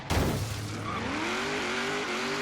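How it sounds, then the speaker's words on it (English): A loud race car engine in a driving video game, steady roaring drone with a rising tone as it accelerates, following a brief burst at the start. "in this game, this car is most certainly louder than that was"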